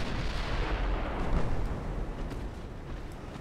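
Naval artillery from warships in the Ultimate Admirals: Dreadnoughts game, a dense continuous rumble of distant gunfire and blasts that stays fairly even throughout.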